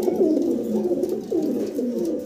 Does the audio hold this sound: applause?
no